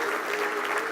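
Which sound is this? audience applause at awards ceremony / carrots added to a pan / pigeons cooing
audience applause at awards ceremony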